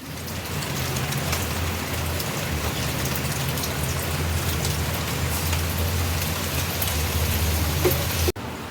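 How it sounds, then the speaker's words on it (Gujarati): Light rain falls steadily outside a home after raining all night, an even close hiss of drops with a low hum beneath, broken by a brief cut near the end. "જો અહીંયા અમારે વરસાદી ચાલુ છે"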